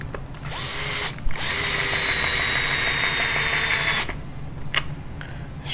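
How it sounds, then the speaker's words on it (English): A power driver runs steadily for about three seconds, whirring close and loud while it screws down the top plate of a Tekno NB48 2.1 RC car, with short clicks before and after. "Screw down the top plate here."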